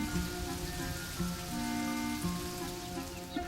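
Animated rain falls in Paris, a soft, steady patter of drops hissing on surfaces, faint and continuous under gentle musical tones.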